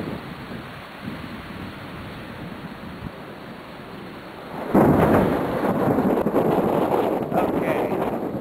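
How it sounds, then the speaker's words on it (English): A thunderstorm with loud thunder: a low steady rumble builds, then a heavy crash of thunder breaks in midway and rolls on loudly to the end, with rain and wind noise beneath. "Still have loud lightning."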